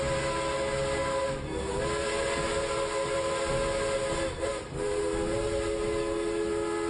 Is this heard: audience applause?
no